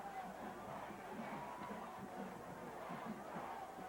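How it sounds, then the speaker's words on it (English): Steady crowd murmur at a 1998 high school football game between Vigor Wolves and Blount Leopards in Prichard, a continuous distant buzz of many voices without distinct cheers, holding at an even level throughout. "Crowd buzzing after the defensive play by Vigor."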